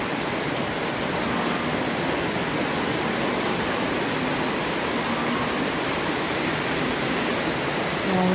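Floodwater on Bantayan Island rushes past in a loud, unbroken roar, with a faint voice barely audible under the steady torrent.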